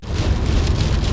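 Heavy rain hammers down during a family car journey from Lahore to Naran, a loud, steady wash of drumming water on the vehicle with no break and no voices.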